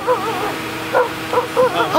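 A person's voice imitating a dog barking in the distance, giving a few short, yelping bark-like calls in uneven bursts, moderately loud and close to the mic.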